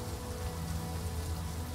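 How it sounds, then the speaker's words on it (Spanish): Heavy rain pours steadily in The Witcher video game, a dense, even hiss with a low rumble beneath and no talking. "En el juego está recontra lloviendo."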